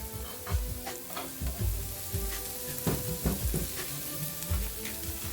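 Seasoned Mexican chorizo sausage frying in a pan: a continuous close sizzle with scattered pops and occasional scrapes of stirring, no voices.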